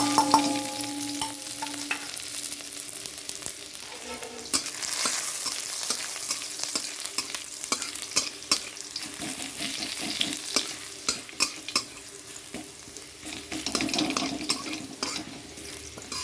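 Garlic and nigella seeds fry in oil in a pan for a sponge gourd curry, sizzling steadily while a spoon stirs and clatters now and then, the crackle rising in bursts toward the end, with no voices.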